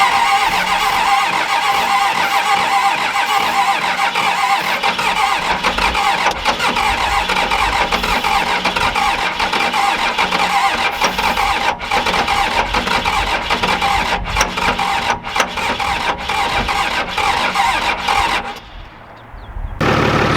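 An old, rusty Cummins diesel engine in a cheap Dodge Ram cranks on its starter and catches, a loud, close, continuous mechanical clatter with a rhythmic pulse that cuts out near the end.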